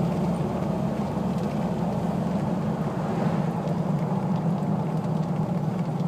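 Jeep YJ engine running steadily while driving along a road, a continuous loud low rumble that holds an even level throughout with no voices.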